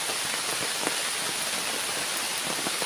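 Steady rain pours down on a walk through a rubber plantation, a dense even hiss with scattered drops pattering close by and no voices.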